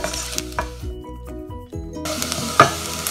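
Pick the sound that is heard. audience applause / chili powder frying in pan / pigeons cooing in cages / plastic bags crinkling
chili powder frying in pan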